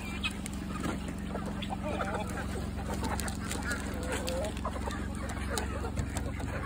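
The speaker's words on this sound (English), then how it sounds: "This is what it's like to have chickens." Backyard chickens clucking and murmuring at bedtime as they settle in for the night, a soft continuous chatter of several birds at close range with faint voices in the background.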